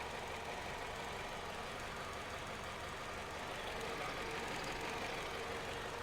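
A 2009 Peugeot 207 engine idles roughly with a manifold pressure sensor fault, giving a steady, dense, close mechanical rumble that runs unbroken throughout with no voices.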